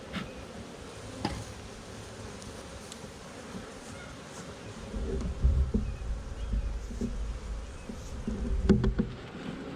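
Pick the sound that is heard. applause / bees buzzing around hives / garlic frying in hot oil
bees buzzing around hives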